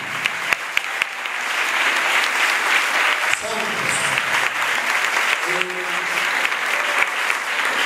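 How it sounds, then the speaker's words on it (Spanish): A church congregation applauds together in a steady, dense burst of clapping that runs the whole stretch, while a voice briefly calls out over it twice. "le damos un aplauso al Señor por el trabajo humano"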